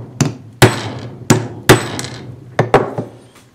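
A hammer drives a hole punch through a leather knife sheath, giving six sharp, loud metallic strikes at uneven intervals, each ringing briefly before the next blow, with no talk.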